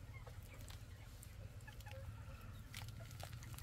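Native desi hens clucking on a farm, a steady mix of short clucks and calls over a continuous low rumble, with no talk.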